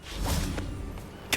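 The Revelio spell cast in Hogwarts Legacy sounds as a soft whooshing swell that ends in a short, sharp magical burst.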